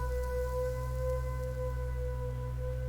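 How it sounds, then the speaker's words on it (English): Soft, sustained synth pad preset from the Lofi Keys plugin holding a steady chord with a low drone beneath, unchanging and fairly quiet throughout. "Working as like this background sort of pad melodic element."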